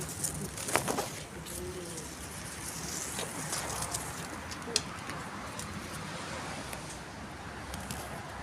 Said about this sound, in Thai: มีนกน้อยบินมาแถวนี้ด้วย มาเกาะคุยกันสองสามต้น สองสามตัว